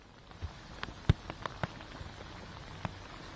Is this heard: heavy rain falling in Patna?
yes